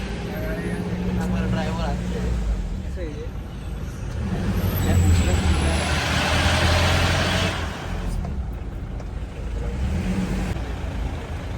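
Road traffic with trucks and buses on a highway from Haridwar toward Sonprayag, engines rumbling and swelling as heavy vehicles pass close by, with a brief air-brake hiss; a voice talks over it.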